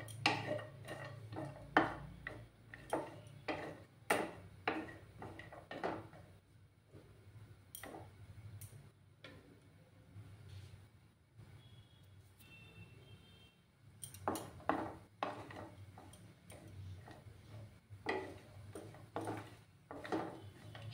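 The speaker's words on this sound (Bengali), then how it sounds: "এবার আমি কাজু বাদামগুলো দিয়ে দিচ্ছি, দিয়ে সামান্য ফ্রাই করে নেব।" Cashew nuts fry in a pan for Bengali-style fried rice, heard as quiet, repeated scraping and tapping of a spatula stirring against the pan in irregular bursts.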